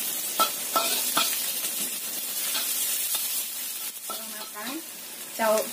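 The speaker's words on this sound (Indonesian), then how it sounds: "Kita tambahkan jahe dan bawang putihnya. Tumis sampai kecium bau enak." Ginger and garlic sauté in a hot pan, sizzling loudly and steadily while a utensil scrapes and stirs at intervals; a voice briefly speaks near the end.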